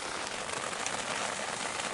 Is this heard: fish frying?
no